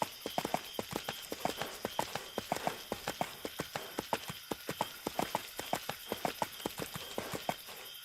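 Horse hooves clip-clopping in a quick, steady galloping rhythm in the video game EverQuest II, the even hoofbeats continuing throughout at moderate volume over a faint background hum.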